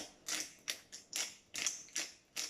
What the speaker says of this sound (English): So a good grinding of black pepper.